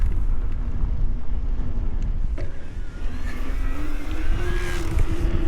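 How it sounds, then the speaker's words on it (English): Transition Regulator CX e-bike with its motor off, knobby tires rolling steadily over the ground with a low continuous roar and wind rush, the rear hub silent and a faint clunk partway through. "Nothing but tires on the ground."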